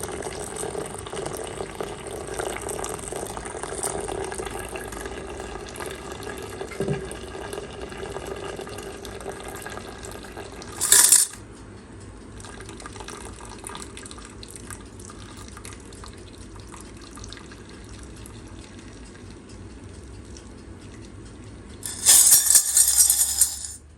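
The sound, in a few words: pouring dirty water off refined gold jewellery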